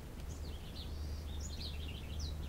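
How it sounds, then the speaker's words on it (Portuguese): Small birds chirp and twitter repeatedly at moderate distance around an attic under renovation, agitated after their nests were removed, over a low steady background hum. "tá dando pra escutar os passarinhos?"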